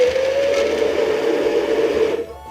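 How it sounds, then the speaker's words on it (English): An immersion blender whirs steadily as it grinds basil salad dressing with tuna and green beans, a loud continuous tone that cuts off abruptly near the end, with no talking. "You can see I'm using my immersion blender to pack everything down there."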